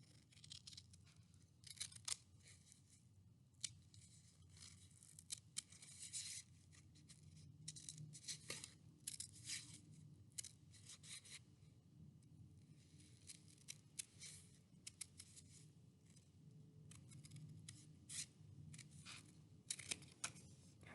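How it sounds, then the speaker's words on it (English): Scissors snipping through paper to cut out pieces for a flying owl craft, quiet close crisp snips coming in irregular bursts over a low room hum. "And then cut it out again."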